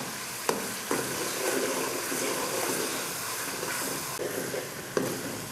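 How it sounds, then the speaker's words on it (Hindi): Onion frying in a pan with ginger-garlic paste for an aloo chicken curry gives a loud, steady sizzle and hiss, broken by a few sharp clicks of stirring. "और इस प्याज को अब इधर भून लेना है।"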